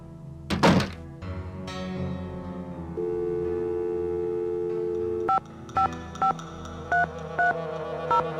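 In the Nancy Drew game, a heavy thunk opens the clip, a dial tone hums for a few seconds, and then six evenly spaced touch-tone beeps ring out clearly as the ticket booth telephone is dialed.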